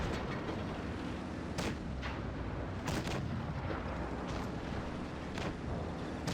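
Annihilator tank firing in World of Tanks Blitz, several sharp booming cannon shots spaced a second or so apart over a constant rumbling battle background, loud and with no talk.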